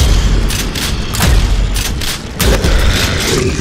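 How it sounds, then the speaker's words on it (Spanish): Loud, booming gunfire bursts from a heavy weapon in the game Prodeus, several rumbling shots in quick succession with a pause between volleys, close and powerful. "Primer disparo. Cargado."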